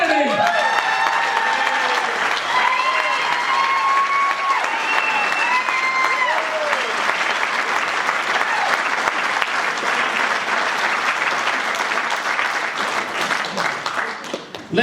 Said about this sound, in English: Could you please show your appreciation for Jim, Mr. Sean Kennedy?